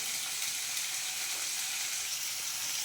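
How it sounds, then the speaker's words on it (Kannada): Onions frying in oil give a steady, close sizzle with an even, bright hiss throughout and no talk. "ಆಯಿಲ್ ಆಯಿಲಲ್ಲಿ ಚೆನ್ನಾಗಿ ಫ್ರೈ ಆಗಬೇಕು"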